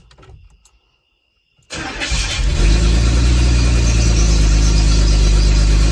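A 1984 Chevrolet S-10 pickup cranks and fires after a short quiet pause, then settles into a loud, steady, rumbling idle through a newly fitted exhaust.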